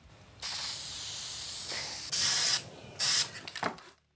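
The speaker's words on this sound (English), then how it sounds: "get you some clear coat lacquer and spray on" Clear coat lacquer sprays from an aerosol can onto a laser-engraved slate coaster in several hissing bursts: a long steady spray, then two louder, shorter blasts and a few quick sputters, close by with no talking.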